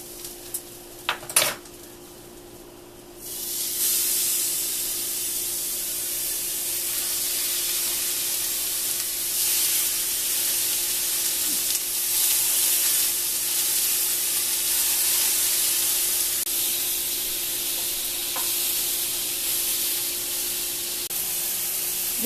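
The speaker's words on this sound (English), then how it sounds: "These are finished searing" Meat for chopped BBQ sandwiches sears in a hot pan over a stove flame, giving a steady, fairly quiet broadband sizzle that runs continuously for about twenty seconds after a few brief clinks of utensils at the start.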